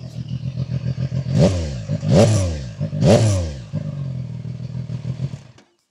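A three-cylinder motorcycle idles with a steady low putter, blipped through three sharp revs that rise and fall before returning to idle and shutting off.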